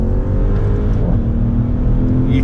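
A Maserati Levante Trofeo engine revving hard under acceleration, a loud deep droning roar heard from inside the cabin that climbs steadily in pitch, with no speech over it.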